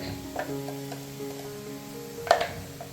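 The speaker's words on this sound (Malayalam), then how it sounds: "നമുക്ക് ഉള്ളി ഒന്ന് നന്നായി മൂപ്പിച്ചെടുക്കാം" Crushed onions with green chilies sizzle steadily in a hot pan, with a few scraping stirs and one louder clatter of the spoon against the pan.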